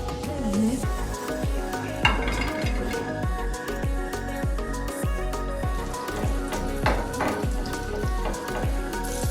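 Butter sizzles steadily in a pan while a sauce for chicken drumsticks is started, a dense crackling hiss with small irregular pops throughout, close and continuous with no voices.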